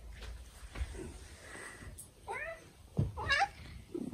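A male cat in a dim room meows several times, with two clear drawn-out meows near the end, interspersed with soft snorts and sniffs at close range.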